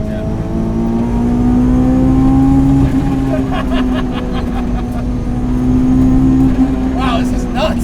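A 385 whp supercharged Honda S2000 track car's engine drones loudly from inside the cabin, its steady tone climbing slightly as it revs, with faint rattles mixed in.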